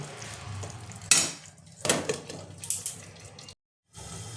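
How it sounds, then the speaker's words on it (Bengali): Diced tomato with slit and whole green chillies sizzling as they are sautéed in a pan for a Bengali-style drumstick (sajna data) curry, with steady frying hiss, a few louder stirring scrapes and clatters, and a brief gap near the end. "এবার আমি দিয়ে দেবো টমেটো কুচিটা, দিয়ে দেবো চেরা আর গোটা কাঁচা লঙ্কাটা। এবার এটা একটু কষিয়ে নেবো"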